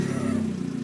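A 2013 Fiat 500 Abarth's 1.4-liter four-cylinder engine hums in a brief, fairly quiet burst of steady mid-pitched engine drone with a faint rhythmic pulse.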